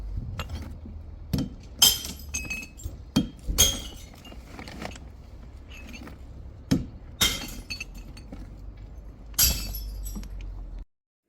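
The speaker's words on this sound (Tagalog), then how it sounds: "At umpisahan na po natin sa pagtatapon po ng mga bote." Glass bottles thrown one after another into a household trash bin, heard as a series of sharp clinks and crashing clatters at uneven intervals, close and loud against a low background rumble.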